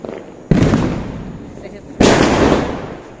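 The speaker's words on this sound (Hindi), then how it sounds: "देखिए चारों तरफ कितनी तेज पटाखों की आवाज़ आ रही है" Two loud Diwali firecracker bursts, each followed by crackling that slowly fades, with more bangs rumbling around in the background.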